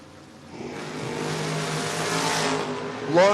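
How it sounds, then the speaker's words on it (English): Drag race cars, a 1980 Monza and a 1967 Chevelle, roar with a loud, sustained engine drone at the track, building steadily before a sharp rise at the end. "Smith in the 80 Monza. on the left side of the track. On the right side, Lawrence in the 67 Chevelle"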